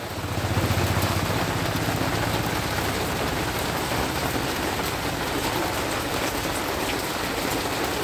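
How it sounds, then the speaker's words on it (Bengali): Heavy rain pours down on a market street as someone shelters under a banyan and a peepal tree, a dense continuous roar of drops hitting surfaces with a low rumble in the first few seconds. "রাস্তায় দাঁড়িয়ে রয়েছি, এমন বৃষ্টি"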